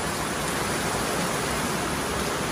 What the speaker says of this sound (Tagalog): Grabe naman tong ulan na to. Ang lakas.